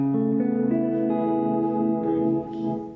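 Sustained electric guitar chords drenched in a modulated delay, with repeats that waver and shimmer in pitch, ringing out steadily with no talking.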